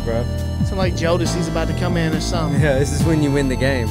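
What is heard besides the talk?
No everyday noise stands out behind the speech.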